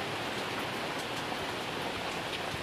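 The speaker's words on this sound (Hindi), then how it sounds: "देख सकते हो दोस्तों कितना ज़्यादा बारिश हो रहा है यहाँ पर" Heavy rain pours steadily beside the Indira Gandhi canal in India, a dense continuous hiss of drops close by with no pauses and no talk.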